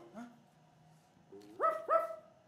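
A lone dog gives a few short, tonal barks and yips, quiet and somewhat distant, with a faint whine early on and two stronger barks near the end.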